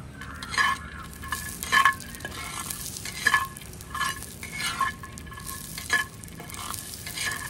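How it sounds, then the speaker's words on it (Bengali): Grated coconut and peanuts being dry-fried in a pan, with a gentle sizzle under repeated scraping and stirring strokes and light metallic clinks from the spatula. "এবার কিছুটা চিনে বাদাম নারকেল কুচির সঙ্গে এটাও ভেজে নেব।"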